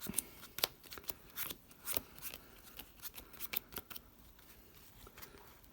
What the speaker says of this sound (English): I'll do a quick power shuffle here, so get them mixed up a little bit.